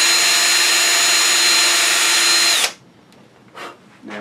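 A power drill with a brad point bit boring a hole in wood for a turned chickadee ornament, loud and steady with a high whine for over two seconds, then stopping abruptly, followed by a few quieter handling sounds.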